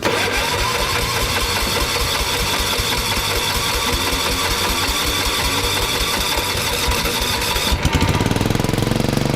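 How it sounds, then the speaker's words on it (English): A homemade John Deere tailgater blender engine is kicked over and catches, chugging in a loud steady rhythm close by before revving harder and rougher at the end. "We gotta kick this thing over and see how she spins."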